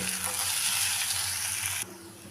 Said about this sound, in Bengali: এখন সব কিছু একসাথে ভালো করে মিশিয়ে নেব আর একটু ভেজে নেব